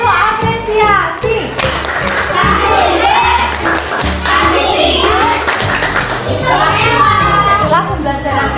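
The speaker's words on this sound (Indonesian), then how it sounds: "Kita kasih tepuk apresiasi untuk Kiki." A classroom of children clapping together in appreciation for a classmate, patterned group claps under a teacher's voice and children's chatter.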